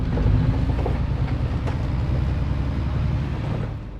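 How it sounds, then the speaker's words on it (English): Low, steady vehicle-cabin rumble inside a tractor driver cabin in Farming Simulator, a continuous dense drone with faint rattles, loud and close throughout before easing slightly at the end. "another feature for you that makes the driver cabin sounds more realistic and detailed. Indoor cabin rumble."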